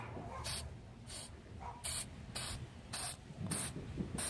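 Gasket spray coating a GY6 scooter engine part in seven short, sharp hissing bursts at a regular rhythm, close and loud against a quiet background.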